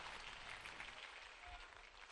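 An audience in a hall at an agricultural innovation dialogue in Bhopal claps loudly for a farmer's daughter; steady, dense applause with no gaps, heard from a little distance.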